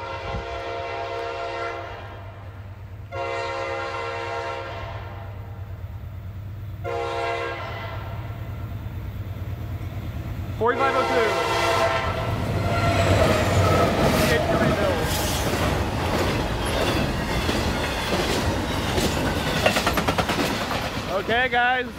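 A GE Evolution diesel locomotive hauling a short Norfolk Southern intermodal freight train sounds several long horn blasts, then rumbles loudly past with roaring engine and clattering, squealing wagons.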